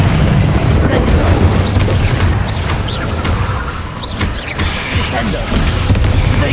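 An Incendio fire spell cast during combat in the video game Hogwarts Legacy, a loud, sustained burst of roaring, booming energy with rumbling low end and mechanical clatter running throughout a busy magical fight.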